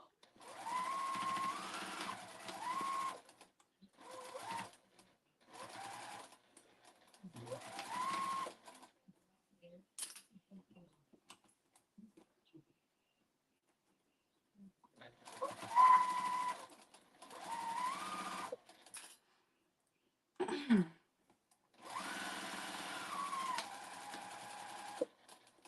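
A sewing machine stitches the ears onto a memory bear in a series of whirring bursts separated by pauses. The stitching runs in short runs and longer runs, with quiet gaps between them.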